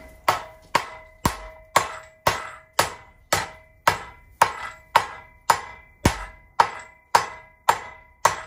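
A forged gun barrel is hammered on a swage block in about sixteen evenly spaced, ringing metallic blows, each one sharp and close with a short metallic ring trailing after it.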